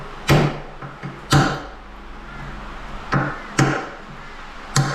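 Sharp hammer blows struck on metal in a workshop where holes are being cut with a grinder, about six distinct loud impacts at uneven intervals, each with a short ringing decay, with no voices.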